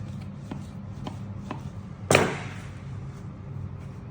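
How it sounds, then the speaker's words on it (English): A knife cutting lamb neck fillet into cubes on a board, a few soft evenly spaced chops followed by one louder thudding cut that rings briefly, fairly quiet and close. "Or what we do is we just put a knife through. Cube it all up like this."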